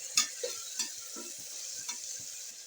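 Finely chopped tomato added to browned onions is stirred in a pan for chicken curry. A spoon scrapes and clacks in several separate strokes over a quiet, low sizzle, with no talking.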